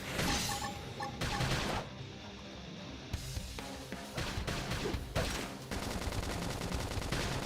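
Gunfire in a Xenoblade Chronicles X battle: dense, continuous volleys of shots and blasts with brief breaks, loud and sustained under game music and effects.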